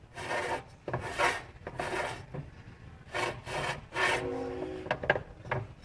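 A generator fan on a 1972 VW Karmann Ghia rubs and scrapes in repeated rasping bursts, each about half a second long with short gaps, close up and without talk.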